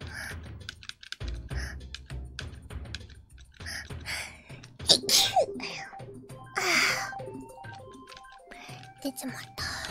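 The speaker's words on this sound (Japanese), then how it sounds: "なんかくしゃみが出そうな気配がするな。" A sneeze bursts out mid-session from a streamer playing a game, landing amid keyboard clicks, mouse taps and her ongoing chatter, with a sharp loud peak near the middle.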